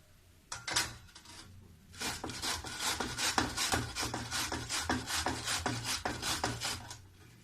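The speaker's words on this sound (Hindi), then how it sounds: "ये जो फूल गोभी है इसको मैं घसूंगी। तो घसने के लिए देखो, ये बारीक छेद है, ये थोड़ा मोटी है, तो मोटी वाले से मैं घसूंगी" Cauliflower is rubbed against the coarse side of a grater in quick rhythmic strokes. After a brief first pass, a steady run of close scraping rasps follows, each stroke distinct and evenly spaced.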